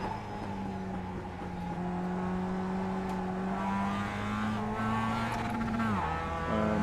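A race car lapping Sonoma Raceway in the iRacing simulator, engine droning steadily at high revs with rising pitch, then a sharp downshift drop near the end, continuous and close.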